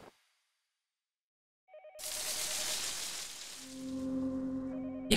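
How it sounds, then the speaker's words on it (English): A telephone rings in the horror video game Yomawari: Night Alone, a repeating electronic ring that cuts in after silence, then a loud static-like wash and sustained tones. "A phone is ringing again."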